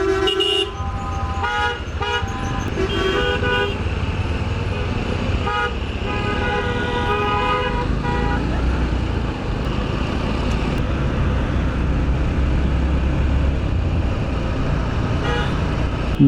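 Dense city traffic jammed at a signal, with repeated car horns honking, short and long toots overlapping against a constant loud engine rumble.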